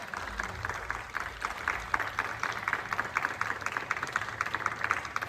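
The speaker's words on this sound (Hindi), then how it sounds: "एक बार फिर से जोरदार तालियां हो जाएं" An audience claps steadily at an Independence Day poetry recital, a dense patter of many hands heard from a moderate distance, fairly soft and sustained for several seconds without voices on top.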